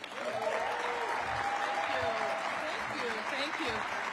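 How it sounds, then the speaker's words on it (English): Steady, sustained applause from an audience at an annual awards ceremony honoring educators, filling the whole stretch evenly at moderate volume, with some faint voices mixed in under the clapping. "Please give Jasmine another big round of applause."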